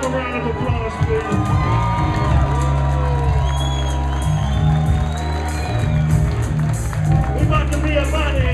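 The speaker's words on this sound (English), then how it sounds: "Give a round of applause, please." A club crowd in Seattle cheers, whoops and claps for a DJ over pounding bass-heavy music, loud and continuous with shouting voices throughout.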